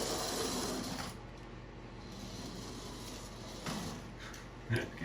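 A Kyosho Mini-Z Subaru Sambar RC car with its electric motor run at full throttle, a steady close mechanical whir lasting throughout, with a brief louder scrape near the end.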